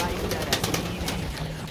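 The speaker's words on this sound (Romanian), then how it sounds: "Eliberăm puțin porumbei la un mic antrenament." Domestic pigeons released around a house for a training flight, with soft cooing and light flutters in the near background, steady and moderately loud.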